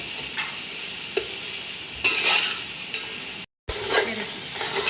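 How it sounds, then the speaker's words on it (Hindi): Chicken-rice masala frying in a pan, a close steady sizzle with repeated scraping and clinking of a spoon against the pan, broken by a brief moment of silence. "थोड़ा सा इसको फ्राई करेंगे अच्छे तरीके से"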